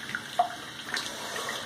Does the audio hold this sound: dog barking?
no